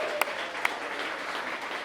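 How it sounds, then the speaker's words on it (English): Wedding guests applaud the two moms in a soft, fairly distant patter of clapping, with a couple of sharper claps near the start. "round of applause for the two moms"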